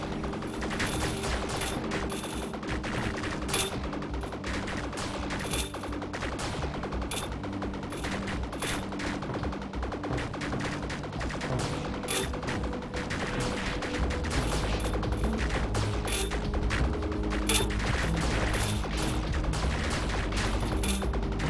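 Continuous rapid gunfire from shooting in the video game Viricide, dense repeated shots over game music and effects, steady and loud throughout with no talking.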